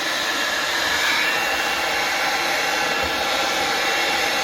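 A heat gun warms the engine casing of a Booster scooter, a constant loud blowing hiss with a steady hum and no break, no voices.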